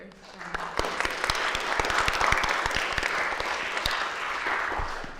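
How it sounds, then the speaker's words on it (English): An audience gives a round of applause at an arts performance event, with dense clapping that swells and then tapers off, with scattered louder individual claps and a voice briefly under it. "I think we should give it another round of applause."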